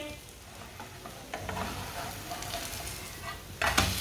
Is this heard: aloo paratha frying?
yes